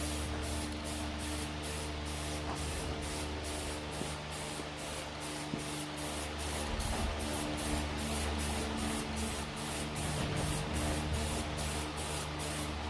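Spray gun dusting a very light coat of paint onto a 1968 Chevrolet C10 truck frame: a steady, close hiss of atomized spray running continuously throughout, with faint rhythmic fluttering on top and no talk.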